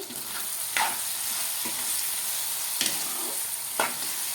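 Tomatoes cook in a pan for a Godavari-style country chicken curry, giving a steady close frying sizzle, with a few soft stirring scrapes spaced about a second apart.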